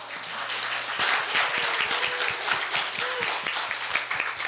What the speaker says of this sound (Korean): 박수 한 번만 쳐주시겠습니까?